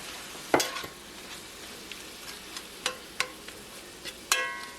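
Homemade New Mexican-style pork chorizo sizzles quietly in a pan while a utensil scrapes and clacks against it in scattered strokes, close up with no voices.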